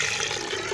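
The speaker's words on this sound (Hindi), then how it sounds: "तकरीबन 1 किलो पानी हम इसमें और डालेंगे।" Water poured into besan batter for kadhi, an Indian yogurt-and-gram-flour curry: a brief, steady gushing rush of liquid, close and fairly loud, with no talking.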